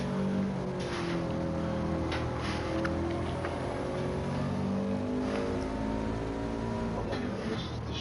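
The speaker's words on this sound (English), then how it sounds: "I can hear the engine of the car" A race car engine in a Nurburgring racing video game holds a steady, droning note with rising harmonic sweeps as it revs and accelerates, loud and continuous throughout.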